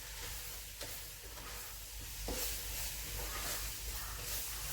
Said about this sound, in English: And our brown sugar, and then stir that around in there.